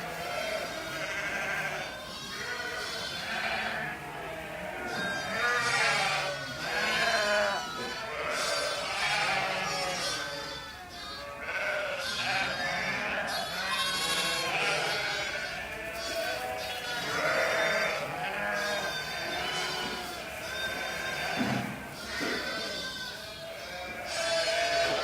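Young lambs only a few days old and ewes bleat repeatedly at a lambing farm, many overlapping calls near and far, with people talking at times among them.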